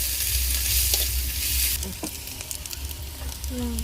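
Loud oily sizzling of chopped garlic and ginger frying in a pan, with a few scraping stirs and clinks near the end.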